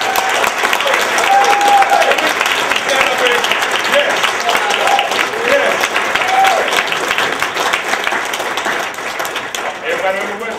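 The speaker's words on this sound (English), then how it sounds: "let's everybody give a big round of applause to Ben back there" Loud, sustained applause from a crowd at a 2005 Devil's Rejects Q&A panel, with dense clapping and some cheering that fills the room throughout and fades slightly toward the end.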